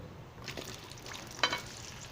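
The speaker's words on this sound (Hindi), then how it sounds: "कुकिंग ऑयल हमारा अच्छे से गर्म हो गया, अभी इसमें प्याज शामिल करते हैं" Chopped onions dropped into well-heated cooking oil for a chicken qorma, giving a faint, soft hiss with a small crackling burst partway through, quiet and without talk.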